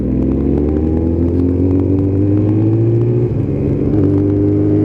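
Motorcycle engine rumbling steadily close by during a group ride-out, with a loud continuous low drone and a slight shift in pitch near the end rather than a distinct sharp rev.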